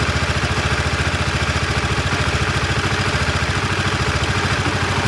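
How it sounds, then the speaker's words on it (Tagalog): A Honda CBR 150 motorcycle engine idles steadily up close after a wiring repair, with a fast, even, putting rhythm that holds without a break and no voices. "pinaandar natin yung makina"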